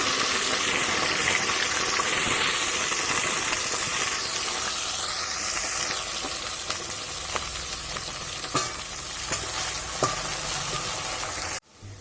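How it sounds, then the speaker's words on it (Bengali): Cut vegetables, including carrot, sizzle and hiss in hot oil in a pan, a loud continuous frying crackle with occasional stirring clinks, ending abruptly. "আমি একে একে সমস্ত সবজিগুলোকে ভেজে নেব"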